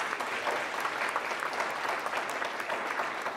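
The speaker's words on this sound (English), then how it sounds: "so please give him applause" A university health science audience gives a steady round of applause, many hands clapping in a dense, even wash at moderate level from start to finish with no voices on top.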